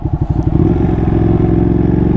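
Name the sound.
Ducati Panigale 959 engine revving with Termignoni exhaust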